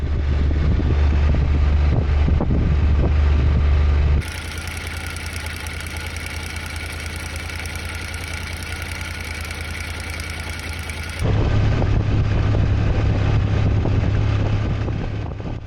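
A motorcycle engine with a faulty cam chain tensioner runs steadily, its low rumble loud and continuous, with a quieter stretch in the middle before returning to full level; no voices.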